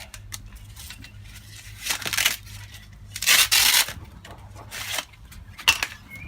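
A van's water pipe being unwrapped by hand, giving a series of close crinkling, rustling and crackling bursts with brief pauses between them and no talk.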